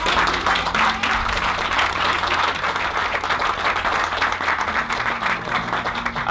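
Audience applauding steadily at an Italian exhibition presentation, dense sustained clapping from a crowd heard close and loud throughout, with no talk over it.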